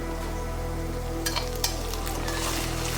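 Ginger garlic paste fries in a pan over cooked onions for a country chicken curry, making a steady close sizzle broken by a few brief scrapes of stirring.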